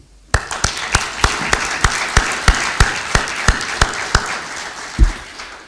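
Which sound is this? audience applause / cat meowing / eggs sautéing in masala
audience applause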